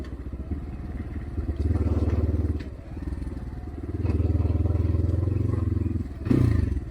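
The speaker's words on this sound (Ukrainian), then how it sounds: "Мотор коротше, голосно працює." A KOVI MAX 300 motorcycle engine runs loudly nearby, revving up and settling in surges, with a rough, clattering rumble throughout.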